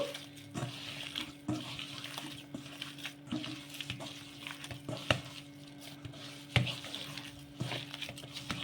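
Vada batter is mixed by hand in a bowl, giving soft wet squelching and slapping sounds with irregular clicks and knocks against the bowl, fairly quiet and close throughout.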